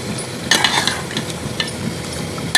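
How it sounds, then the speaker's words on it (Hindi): Chicken mince with softened tomatoes fries in a pan, a steady close sizzle broken by a few bright scrapes and clinks of a spoon stirring against the metal, with no voices. "इसको अच्छी तरह से भून लेंगे।"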